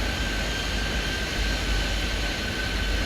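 A Concorde airliner's jet engines in the airport simulation game Airport Madness 3D give a steady, even roar with a faint high whine and no voices over it.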